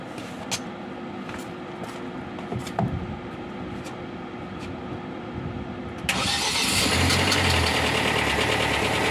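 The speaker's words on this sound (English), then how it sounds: "I'm going to start the vehicle, then we see the current that is going to drain" A car engine turns over and catches, then settles into a steady idle, close and fairly loud with no talking.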